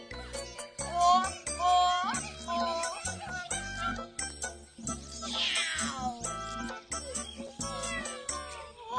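Repeated high-pitched cat meows, several in a row, mixed with a voice and some jingling, fairly close.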